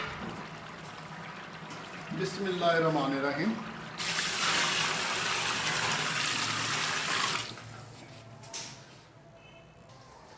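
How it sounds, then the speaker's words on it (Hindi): About 14 kilos of water pours steadily into a large pot of chickpea pulao for a few seconds, a loud rushing gush after a brief spoken phrase. "अब हम इसमें तकरीबन 14 किलो पानी डालेंगे।"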